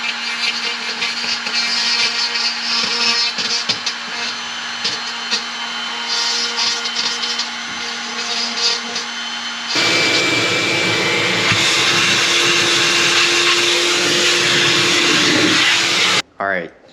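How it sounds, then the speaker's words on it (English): A Dremel routes out a walnut countertop with a loud, high-pitched whining grind, first steadier with a tonal hum, then rising into a harsher, denser buzz before cutting off abruptly. Talking is heard over the tool. "we just finished routing it out using the Dremel"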